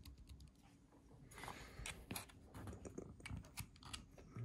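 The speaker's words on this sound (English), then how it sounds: "When I press the caps lock" Several crisp key clicks and taps from an Apple Magic Keyboard, pressing the caps lock key, close and fairly quiet, with small mechanical clatter between them.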